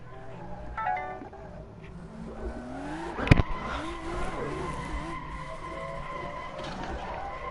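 A car in the Assetto Corsa racing game slides sideways on a mountain road, its tires squealing in sustained wavering tones over a steady engine drone, with a sharp impact-like burst midway, close and fairly loud.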